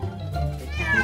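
A single cat meows at close range inside a cat rescue shelter, a drawn-out call that rises toward its end and stands alone with no talk over it.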